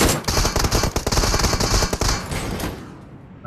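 Rapid automatic gunfire in the battle royale video game Royal 2, dense bursts of loud shots for about two seconds, then fading to quiet.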